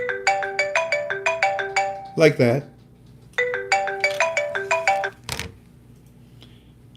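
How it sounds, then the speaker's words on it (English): A phone ringtone plays for an incoming call, two loud bursts of rapid repeating electronic melody notes, each cut by a short spoken phrase before falling silent. "that's the second or third phone call that we've received"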